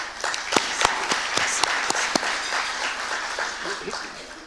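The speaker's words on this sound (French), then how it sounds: "Je vous demande de l'applaudir." Applause from an audience at a notaries' breakfast gathering: a steady wash of hand claps with a few sharper, distinct claps standing out, moderately loud and continuous for several seconds before easing slightly.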